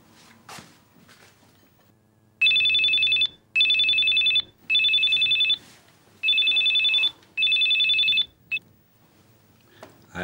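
A telephone rings in a classroom setting, five loud, even electronic rings in a steady rhythm with short gaps between them, standing alone without talk.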